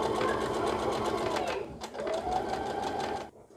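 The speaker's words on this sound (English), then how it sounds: "let's start sewing" A sewing machine stitching a straight line, running fast with a close, steady mechanical whir and rapid needle ticks, pausing briefly midway before resuming, then stopping near the end.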